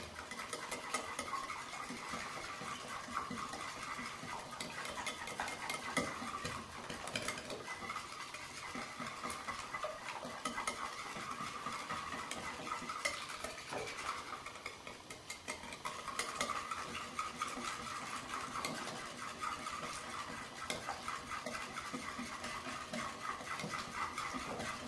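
Muffin batter for sugar-free lemon poppy seed muffins is stirred steadily in a bowl, a continuous close scraping and clinking of utensil against the bowl with no voices.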